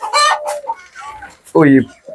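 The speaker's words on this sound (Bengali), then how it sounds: "এগুলো আমাদের ফ্যান্সি মুরগির" Fancy chickens on a farm clucking close and loud, several short sharp calls and a longer drawn-out cackle in quick succession.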